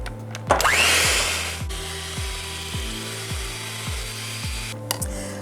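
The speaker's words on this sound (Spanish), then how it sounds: "vamos a agregar 500 mililitros de crema de batir y lo vamos a batir hasta que hagamos una consistencia así como suspiro" An electric mixer whips 500 ml of whipping cream for pistachio ice cream. The motor spins up with a rising whine and then runs steadily, with regular low thumps as the beaters knock through the cream.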